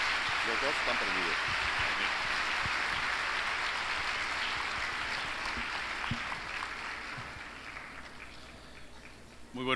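Warm applause from a church audience greeting a Mercedarian provincial, a loud sustained wash of many clapping hands that slowly fades toward the end, with a few voices mixed in.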